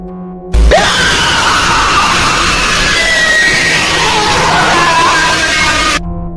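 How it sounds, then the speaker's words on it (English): Loud, harsh distorted screaming from a horror video game fills the whole stretch, a dense wailing wall of noise with siren-like tones that starts abruptly and cuts off near the end. "You will also hear loud, distorted screams that are very disturbing."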